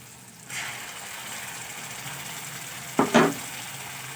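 Onion paste added to hot oil already holding fried ginger and garlic gives a steady close sizzle, with two brief louder bursts of stirring near the end.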